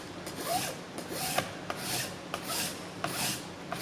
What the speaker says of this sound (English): Draw filing. And it's going to give us our smoothest filed edge.